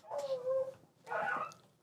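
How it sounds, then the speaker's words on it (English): Puppies whimpering faintly somewhere nearby, two short whiny cries separated by a brief pause. "I hear puppies."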